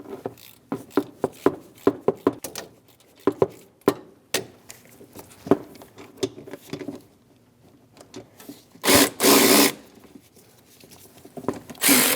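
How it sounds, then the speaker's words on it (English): A hand ratchet with a 13mm socket works the accessory pulley bolt on a 2011-2018 Ram 1500 5.7L V8, giving sharp close clicks in irregular bursts, with a louder burst of rattling near the end. "Using a 13mm socket, remove the bolt for the accessory pulley."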